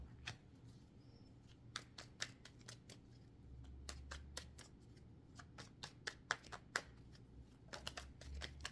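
Tarot cards being handled and shuffled close by, a quiet run of crisp snaps and flicks at an uneven pace, with soft rustling between them and no talk.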